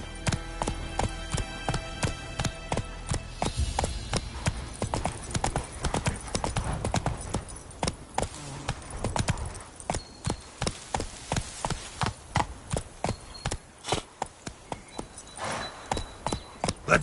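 Horse hooves gallop in The Witcher 3, a steady run of loud, close clip-clop beats on hard ground that continues throughout with no pause.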